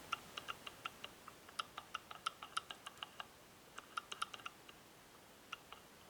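Quiet, crisp mechanical clicks in quick irregular runs as a La Gard 2270 safe lock dial is turned notch by notch, with a short pause mid-sequence, heard up close.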